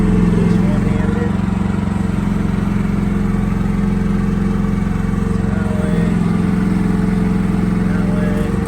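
A brand-new AGT Industrial QH12 mini excavator running and moving, its small engine making a steady loud drone throughout with a faint voice talking over it.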